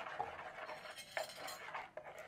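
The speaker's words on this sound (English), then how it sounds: "I'm going to pound this garlic and ginger" Garlic and ginger being pounded by hand while cooking, a few quiet, irregular knocks and clinks spaced about a second apart, close by with little else around.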